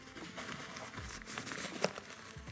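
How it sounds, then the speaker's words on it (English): Nylon rain fly for a Nomatic Luma 18L camera bag being handled, a soft continuous crinkling and rustling up close with one sharper snap partway through. "The other thing I do have here is the rain fly."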